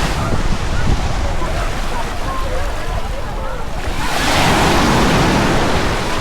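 Surf rolls in at a packed, seaweed-strewn Misquamicut Beach, a broad continuous wash of waves with wind buffeting the microphone, swelling louder as a bigger wave breaks near the end.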